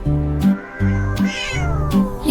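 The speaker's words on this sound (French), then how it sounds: "Le chat sauta haut à travers les rayons de la lumière des étoiles." A cat meows in a run of four loud, drawn-out cries, close and alone, each call stretching and bending in pitch with short gaps between.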